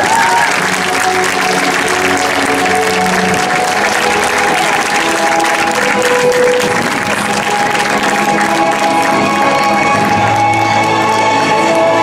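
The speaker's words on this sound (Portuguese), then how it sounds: "Para a Maria, uma salva de palmas" A crowd at a queen-candidate parade and pageant opening claps loudly and continuously, a dense wash of applause with a few scattered cheers and background music tones underneath.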